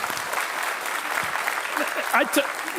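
An audience claps during a church Sunday service, a steady wash of applause lasting throughout, with people speaking over it toward the end.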